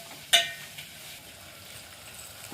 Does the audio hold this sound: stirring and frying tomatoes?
yes